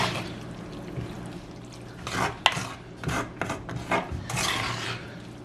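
Snake beans and peanut curry being stirred in a pan, giving rough scraping and rubbing strokes in irregular bursts, close and moderately loud.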